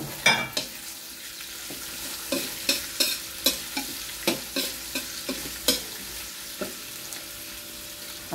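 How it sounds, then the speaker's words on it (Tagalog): Garlic and onion being sautéed in oil while a utensil scrapes and stirs them in regular strokes over a low, steady sizzle. "Kiwar-kiwar lang apo, ti bawang kan sibuyas"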